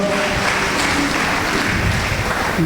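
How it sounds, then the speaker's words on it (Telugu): A church congregation at a testimony prayer meeting claps loudly together, a dense and steady burst of applause that fills the room without pause and with no speech over it. "గట్టిగా చప్పట్లు కూడా దేవుని మహిమ పరుద్దాం."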